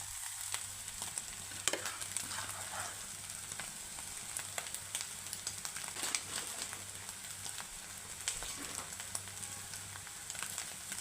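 Grated coconut stirred into egg thoran frying in a pan, a steady close sizzle and crackle that runs without a break, with faint scraping from the stirring.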